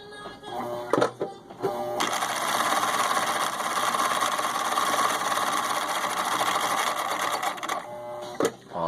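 A Husqvarna Viking 6440 sewing machine runs a zigzag stitch, its steady mechanical whir and rapid needle clatter holding for several seconds after a few clicks, close and loud with no talking.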